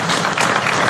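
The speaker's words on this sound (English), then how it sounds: "warm applause" A cricket crowd at a Yorkshire v Sussex county match claps warmly for a batter's half century, a dense, steady patter of many hands throughout the brief moment.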